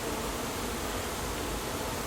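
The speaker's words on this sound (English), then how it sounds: "A lot of bees in here, folks." A dense swarm of bees being removed from a house soffit drones in a steady, close, unbroken buzz with a broad hissy texture and no voices.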